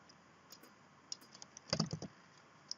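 Quiet computer keyboard clicks while code is copied and pasted: a few scattered taps, then a short quick cluster of keystrokes and a final click.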